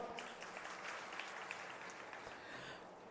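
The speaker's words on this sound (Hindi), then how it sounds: "इनके लिए भी जोरदार ताली मारा के स्वागत करना है" An audience at a Chhattisgarh political gathering applauds to welcome tribal leaders; the clapping is faint and distant, a dense, steady patter that holds for the whole stretch, with no talking.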